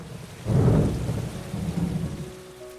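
A thunderstorm brings a deep, close rumble of thunder that swells and slowly fades over steady falling rain.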